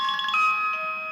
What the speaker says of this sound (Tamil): ஃபோன் அடிக்குது, எடுக்கிறானா பாரு.